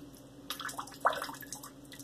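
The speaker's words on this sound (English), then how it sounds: "Look how much water will come out of this knot." Water squeezed from a 24 mm two-band super high density badger shaving brush knot by Maggard Razors, heard up close as soft dribbling and splashing with one sharper gush in the middle.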